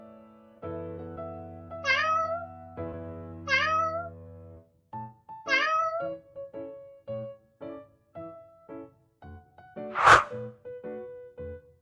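Several clear meows, drawn-out and close, over a soft musical backing, then a sharp smack near the end.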